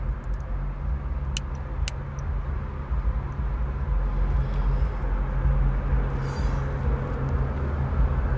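A car interior carries steady low road rumble and engine drone throughout, with a couple of brief faint clicks early on and no voices.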